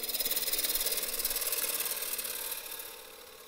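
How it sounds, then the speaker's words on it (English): A woodturning gouge skims the inside of a wooden platter on the lathe, giving a steady, close, fairly loud hiss with a fine rapid rasping flutter that eases off slightly toward the end; no voices. "I'm just going to use the same gouge, and I know you can't see this, but I'm just going to skim it on the inside"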